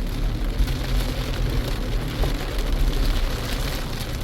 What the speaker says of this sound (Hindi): अब देखिए यहाँ पे आई बारिश, ये देखिए अब शुरू हो गया।